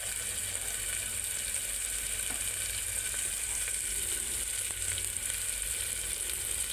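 Onions and tomatoes frying for khichdi give a dense, even sizzle that holds steady throughout, close and continuous with faint stirring ticks, no talking.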